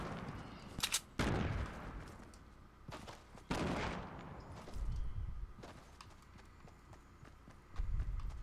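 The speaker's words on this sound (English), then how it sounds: "I'm definitely being shot at." Gunfire in the game Fortnite Battle Royale, sharp shots in short clustered bursts at scattered moments, some loud and close, others fainter, alongside game movement sounds.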